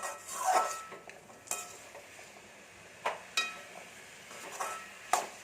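Potatoes stirred and sautéed in a pan for a Tamil-style potato poriyal: intermittent scraping stirs and soft clinks of a spoon against the pan over a low background sizzle, close and moderately quiet, with no talking.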